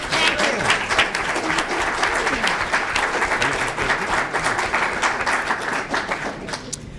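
Sustained clapping from the audience at a town board meeting, a dense, even round of applause that stays strong and tapers only slightly at the very end.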